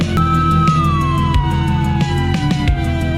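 A police car siren sounds in a horror video game on a scenic highway, a loud steady tone that slowly falls in pitch over a driving engine drone, with sharp rhythmic clicks throughout and no talk.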